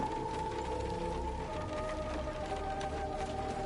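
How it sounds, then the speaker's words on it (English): Rain drumming on a car, a steady, even patter with a faint tonal hum beneath it, continuous and close, with no talk. "This car sounds like it's on, but it's just the rain hitting it."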